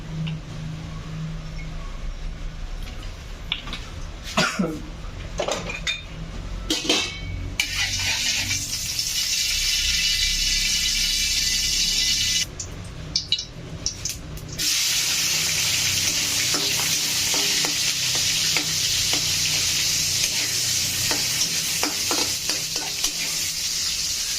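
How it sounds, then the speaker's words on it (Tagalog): Garlic, onion and sardines sauté in hot oil in a pan, with a bright crackling sizzle interrupted by clattering spatula strokes and a brief lull before the frying hiss resumes, with no talking. "igisa natin yung mga bawang, sibuyas, at saka yung sardinas"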